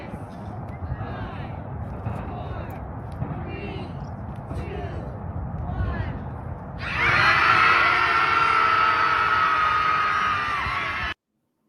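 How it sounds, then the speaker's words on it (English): Outdoors in San Francisco, a distant crowd howls and screams. Muffled chatter and movement come first, then a loud sustained wall of yelling and howling takes over for the final seconds. "people went out to go out and howl, just like do a cosmic like scream or something"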